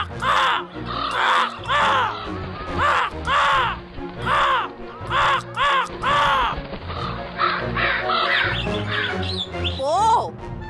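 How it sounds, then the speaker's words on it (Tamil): A big raven in a Tamil cartoon caws loudly and repeatedly in a steady run of harsh calls, with background music and other sounds beneath and a squawk near the end. "எவ்வளோ பெரிய அண்டங்காக்கா!"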